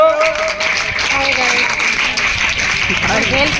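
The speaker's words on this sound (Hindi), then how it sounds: "ताली बजाते जाओ" A crowd at a sports award ceremony claps steadily as team placings are announced, the applause sustained throughout under an amplified announcer's voice and background chatter.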